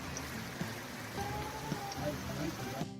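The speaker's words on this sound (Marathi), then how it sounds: "सकाळ सकाळ पावसाला सुरुवात झालेली आहे" Morning rain falls steadily in the Pahalgam valley on the Amarnath Yatra route, a soft, even hiss of drops with a few faint patters, moderately distant and continuous throughout.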